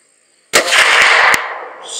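A single loud, sharp gunshot cracks out at close range at a buck during a 2020 youth deer hunt, followed by a brief rumbling echo that fades into quiet outdoor air.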